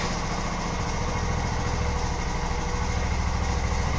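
A Hero Passion Pro 110cc motorcycle idling close by, a steady, even engine putter that runs unbroken throughout, with no talking.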